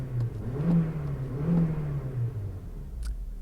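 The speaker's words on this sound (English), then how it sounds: "makes an okay noise when you rev it" A 2010 Honda Civic Value Package with its smallest engine option revs up twice, a low mid-pitched rumble rising and falling, close and clear with no talking.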